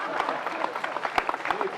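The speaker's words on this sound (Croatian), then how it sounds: "I jedan veliki aplauz za ove tonce što se skrivaju ispod ovoj plastike." An audience at a tamburica music concert applauds the sound technicians, brisk dense clapping throughout the short burst with a few sharper nearby claps.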